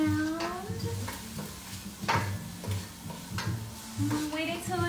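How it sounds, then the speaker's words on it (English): Onions and garlic sizzle in a pan for vegan Spanish rice while a spoon stirs them, with steady frying hiss, regular scraping strokes and a few clinks of cookware, a voice speaking intermittently over it. "I'm moving the onions and the garlic around"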